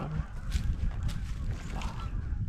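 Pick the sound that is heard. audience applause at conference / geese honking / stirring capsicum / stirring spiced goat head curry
geese honking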